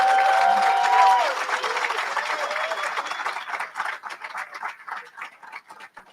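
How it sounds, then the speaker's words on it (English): A crowd at a graduation ceremony applauds loudly, the clapping thinning and fading over several seconds as a sustained tone trails off early on. "Can we give her another round of applause?"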